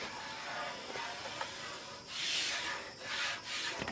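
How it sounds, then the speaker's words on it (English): Squeegee rubbing down a new control panel overlay on a 1987 Romstar Time Soldiers arcade cabinet, soft hissing strokes that swell and fade in a few passes, close and quiet. "We'll take our little squeegee here."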